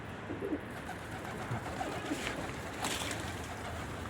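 Pigeons coo softly near a coop, with low, faint calls over a quiet outdoor background.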